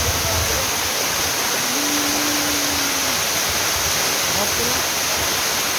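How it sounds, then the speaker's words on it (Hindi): Cold snowmelt water in a mountain stream near Chopta and Tungnath rushes in a steady, loud, unbroken roar that fills the whole scene, with no clear breaks. "बर्फ़ का पानी जो ऊपर से पिघल रहा होगा वही पानी आ रहा है"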